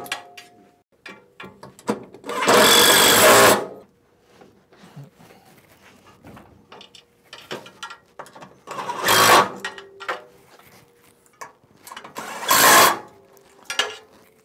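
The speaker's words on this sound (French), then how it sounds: "on va pouvoir visser par en dessous en passant entre les deux plaques du frame de power plate." Bolts screwed in from below with an extension through the frame plates of an Innovatools modular folding machine, heard as three separate loud bursts of driver or ratchet whirring, with faint clicks and handling noise in the gaps between them.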